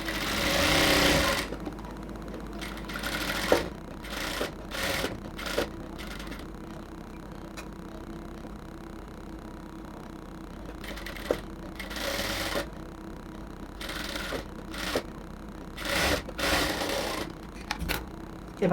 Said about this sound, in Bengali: এখন আমরা প্রথমেই হচ্ছে গলাটাকে সেলাই করে নিচ্ছি।